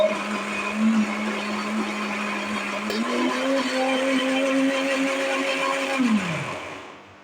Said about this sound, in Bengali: এরপরে আদা ব্লেন্ডার করব।